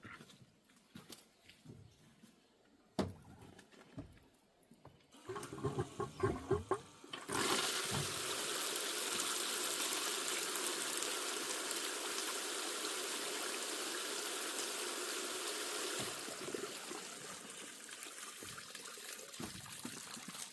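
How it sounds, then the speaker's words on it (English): A bilge pump starts and runs, pushing a steady rushing stream of water across a gold sluice mat beside a creek, after a few quieter knocks and splashes; the flow stays loud and continuous. "Just going to turn this bilge on."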